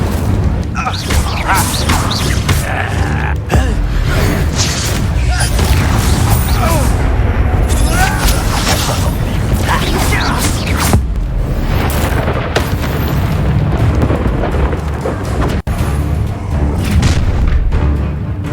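Loud booming fire-spell blasts and combat impacts from Hogwarts Legacy, the Incendio spell amid a fight, heavy and continuous with dialogue from game characters over the top.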